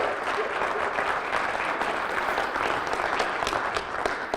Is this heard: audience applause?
yes